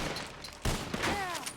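Brief crack of gunfire in a Red Dead Redemption roleplay shootout, a sharp close shot followed by faint echoing reports, with a voice speaking briefly over it.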